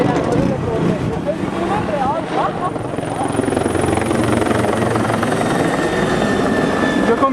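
A helicopter passes low over a riverbank near Almoines with a loud, steady rotor roar that fills the whole span, while people talk beneath it.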